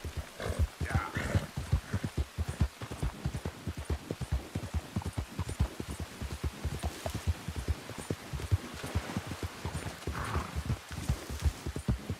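A horse trots in the Red Dead game world, its hooves clip-clopping in a rapid, steady rhythm, fairly close and clear, with brief muffled vocal sounds now and then.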